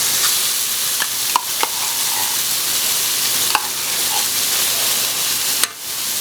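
Tomato paste stirred into beef frying over medium-high heat, a continuous sizzle broken by sharp clicks and knocks of a spoon against the pan, with no talk.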